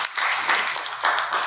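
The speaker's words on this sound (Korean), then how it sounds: "박수 한번 보내주세요." A church congregation gives a short burst of dense, steady clapping during a sermon, heard alone with no talking.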